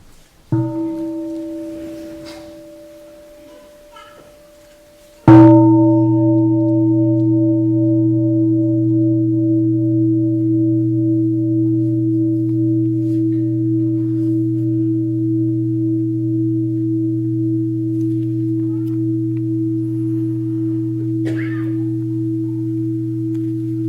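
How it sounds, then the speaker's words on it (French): A mindfulness bell is struck once, giving a sudden bright onset that rings on as a long, steady, humming tone with clear sustained partials, decaying only slightly over many seconds, preceded by a quieter earlier tone. "on va écouter un son de la cloche"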